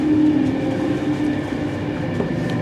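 A train on a railtour near Crewe rumbles steadily as heard from on board, with a low continuous drone and faint wheel clatter throughout.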